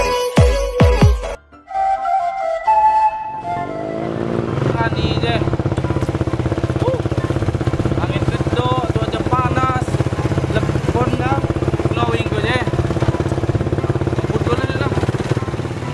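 A brand-new motorcycle engine turning over and settling into a loud, steady idle with throttle rises, close by, after an opening of music and voices.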